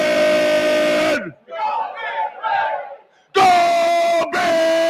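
Festive football crowd at a Nebraska Cornhuskers pregame ahead of the Michigan game, a loud sustained roar of voices and cheering that breaks off midway and then surges back just as loud.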